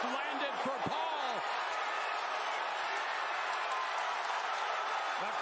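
Boxing arena crowd at a Jake Paul vs Tyron Woodley fight, a dense, steady roar of cheering and applause filling the space throughout, with no single voice standing out.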